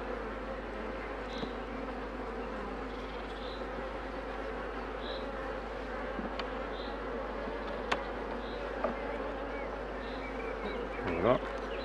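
Honeybees buzz around brood frames as colonies are mixed to make artificial swarms, a constant soft hum of many insects close by, with a few louder passes near the end.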